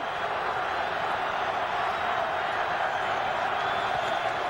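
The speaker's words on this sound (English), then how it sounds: "Crowd climbs into it" A stadium crowd at a 2003 NFL game between the San Francisco 49ers and the Philadelphia Eagles in Philadelphia roars in a steady, dense wash of cheering that fills the whole moment.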